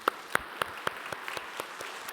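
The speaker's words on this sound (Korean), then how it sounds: "우리 박수하도록 하겠습니다" A small church congregation at a Korean Sunday worship service claps for new members, a soft, fairly sparse run of individual claps at an irregular rhythm, quiet and distant.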